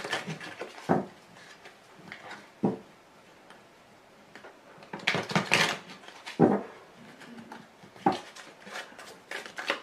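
Tarot cards being shuffled by hand, heard as soft, intermittent bursts of papery riffling and tapping separated by quiet pauses, with no talking.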